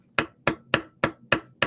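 A pencil tapped against a desk, six sharp, evenly spaced knocks about a third of a second apart, close and clear with nothing else around them.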